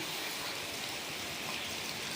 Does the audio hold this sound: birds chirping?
no